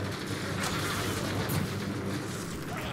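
Enemies explode in the video game Magicka 2, giving a continuous barrage of booming blasts and crackling bursts at moderate loudness, with rumbling impacts layered over each other.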